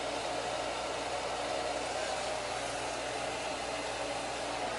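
Hair dryer blowing on hair during a home fringe styling session, a steady, continuous whooshing airflow that stays even throughout, with no talking.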